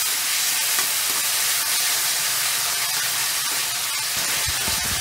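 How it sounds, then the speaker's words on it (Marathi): Finely chopped tomatoes and onion sauté in a hot pan for a crab gravy, giving a loud, continuous sizzle and hiss with occasional stirring scrapes and no talk. "आता ह्यात मी 3 मध्यम आकाराची टमाटे घेतले, ते पण बारीक कापून घेतले. हे सुद्धा आपण चांगले नरम होईपर्यंत परतून घेणार आहोत."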